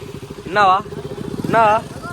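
A KTM Duke 200 motorcycle idles with a low, pulsing chug, broken by two short, sharp revs about a second apart, heard up close and loud.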